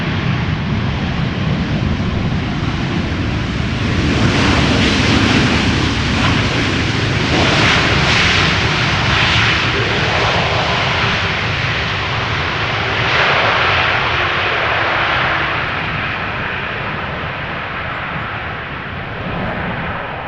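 An airliner passes close overhead while landing at Amsterdam Schiphol Airport, a loud, sustained roar that swells and then slowly fades over about twenty seconds, with no voices.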